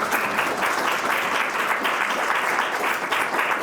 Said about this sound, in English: let's give a round of applause to all of our presenters today